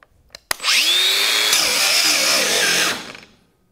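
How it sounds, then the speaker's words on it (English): A cordless X-Lock angle grinder clicks on, whines up to a loud steady high-pitched spin for about two seconds, then its blade brake drops the pitch and halts it quickly; no talking. "We're gonna turn on our grinder. You can see how quickly that brake stops the blade."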